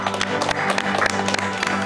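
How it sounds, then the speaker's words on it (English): A small group claps steadily for a couple of seconds at a junior baking competition, the scattered hand claps close and lively, with a little murmuring underneath. "please give yourselves a round of applause"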